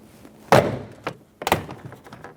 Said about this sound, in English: Pull straight out, pop the clips out.